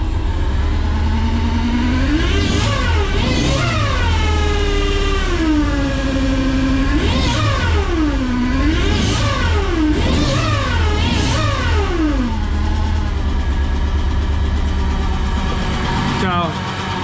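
Air-cooled engine of a 1961 VW Beetle fitted with a strong blow-off valve spring, revving up and down repeatedly on a test drive with rising and falling pitch sweeps, loud and close throughout alongside steady road noise.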